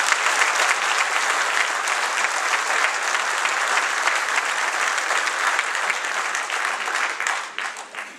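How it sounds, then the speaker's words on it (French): Sustained applause at a municipal election campaign programme presentation, a dense, loud wash of clapping that holds steady for about seven seconds and then fades out. "on peut l'applaudir"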